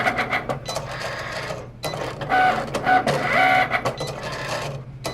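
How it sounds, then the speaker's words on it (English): A Cricut Explore Air vinyl cutter works through heat transfer vinyl with whirring motor runs and short mechanical stops and starts, close and clear. "now that our vinyl cutter is done"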